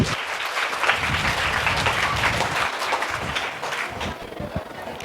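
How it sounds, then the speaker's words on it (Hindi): Audience applause at an Islamic drama performance, dense clapping that stays loud and steady before gradually thinning toward the end. "ज़ोरदार तालियां हो जाए इन लोगों के लिए।"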